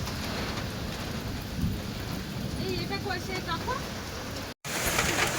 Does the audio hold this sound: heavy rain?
yes